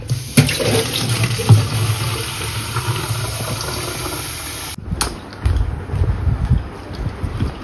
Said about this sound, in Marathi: तर आता आपण मस्त की झाडाला पाणी वगैरे घालू पटापट